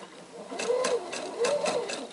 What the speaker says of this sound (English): Sewing up to the edge, and then I'm going to backstitch.